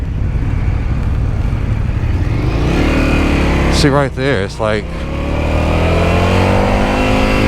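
A 2022 Indian FTR S motorcycle engine runs steadily and loud, with a brief rise in revs near the middle of the clip, while a rider talks over it.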